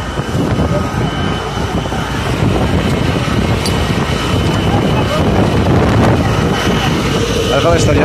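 Strong wind buffets the microphone near a large wildfire burning in Akkum neighbourhood of Narlıkuyu, Silifke, a loud continuous roaring rush with gusts, while people talk underneath.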